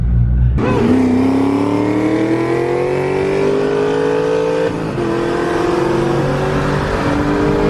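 A Nissan R35 GT-R's engine bursts to life and accelerates hard in a friendly race at a car meet, pitch climbing steadily through the gears, with a brief shift midway before pulling loudly again.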